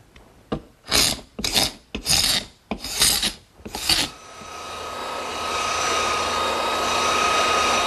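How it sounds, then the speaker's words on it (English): A scraper rasps excess dried glue off a wooden table top in about six firm, rhythmic strokes, close and loud, then gives way to a steady whirring machine hum. "the first thing I'm going to do is scrape off any excess glue"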